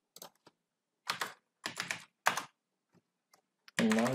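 Typing on a computer keyboard at a command prompt: a few quick clusters of crisp key clicks separated by pauses, then a short burst of talk at the end.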